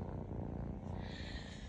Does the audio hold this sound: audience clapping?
no